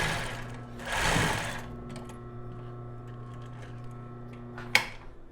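A sewing machine stitches the seam of lace underwear with a backstitch, its motor humming steadily with a louder burst near the start and a sharp clack near the end, with no talking.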